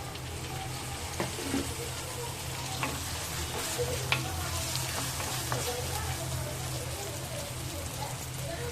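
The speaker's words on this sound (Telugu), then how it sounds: "ఫస్ట్ కట్ చేసి పెట్టుకున్న 2 టమాటో ముక్కలు వేసేసుకుంటాను." Chopped tomatoes fry with onions in a pan for an Andhra fish curry, making a soft, even sizzle with occasional faint stirring clicks all the way through.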